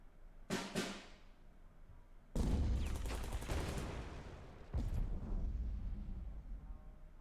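Artillery shelling from the WWII card game KARDS: a sharp initial blast, then a heavy rolling barrage of booming impacts and crackling detonations, with a further explosive burst later, loud and dense throughout.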